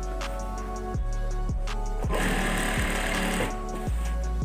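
A sewing machine runs in short bursts while joining a strip of fabric to the top of a curtain, each burst a rapid mechanical whirr, the longest lasting over a second, with clicks between.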